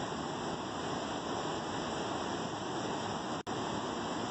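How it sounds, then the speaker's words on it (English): A waterfall rushes in a steady, loud, broadband roar, constant throughout with a brief dropout near the end and no voices. "What's that sound? Waterfall!"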